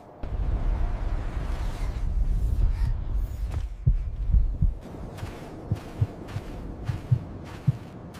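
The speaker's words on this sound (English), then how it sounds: "But the small heart kept beating. Slow, deliberate, defiant." A slow, steady heartbeat sound effect, the deliberate double thumps of a small heart growing clear after a long rumbling drone, then pulsing alone at an even, unhurried rhythm.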